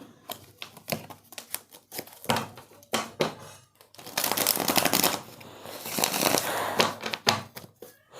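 Tarot cards are shuffled close to the microphone in rapid riffling bursts with short pauses between them, building to a longer, denser shuffle near the end. No one speaks.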